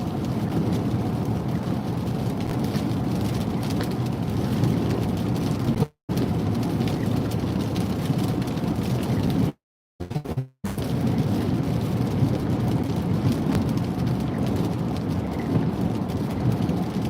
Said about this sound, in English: All right, the rain's coming